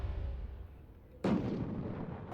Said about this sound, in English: We're going to cover that with mortars.